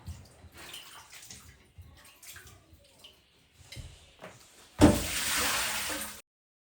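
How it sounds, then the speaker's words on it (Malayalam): Bitter gourd being washed in water in a home kitchen, with intermittent splashing and handling, then a louder continuous rush of running water near the end, heard close and alone. "ഇനി നമ്മുടെ പാവയ്ക്ക വെള്ളത്തിലിട്ടില്ലേ അതൊന്ന് കഴുകി എടുത്തിട്ട് അരിയാട്ടോ"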